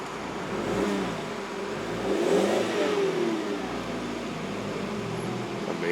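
A 2004 Volkswagen Beetle engine revs during a cold start, its steady mid-pitched drone rising and falling through repeated throttle blips, fairly close and continuous with no talking.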